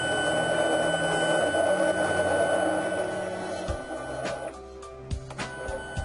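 An HDP5000 card printer runs its rollers with a cleaning card held in place, giving a steady mechanical whir with a higher tonal hum. Later the sound drops and becomes sparser, with a few sharp clicks near the end.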